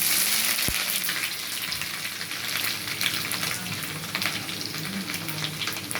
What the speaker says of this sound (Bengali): এটা আমি এবারে একে একে করে কড়াইতে দেব। প্রথমে দেব আদার কিমাটা